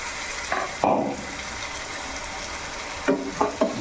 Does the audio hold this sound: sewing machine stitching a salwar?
no